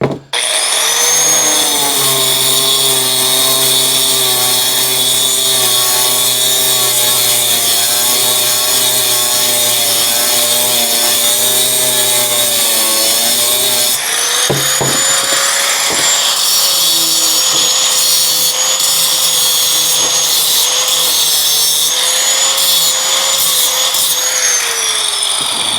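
An angle grinder cuts through sandstone veneer in a loud, steady, high whine that runs without a break. Partway through, the pitch shifts slightly lower as the blade bites the stone.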